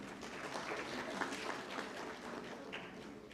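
An audience at a technical textiles conclave claps for panelists coming onto the stage, a soft, even wash of applause heard from a distance and continuing throughout.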